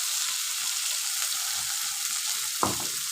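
Tomato paste fries in a pan for a tangra fish curry, a continuous close sizzling hiss with one sharp clink of a utensil near the end.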